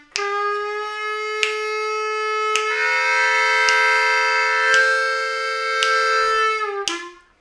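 A Bb harmonica plays a lick: a steady sustained reedy chord, bright and close, lasting about seven seconds with faint rhythmic clicks before a short bent drop at the end.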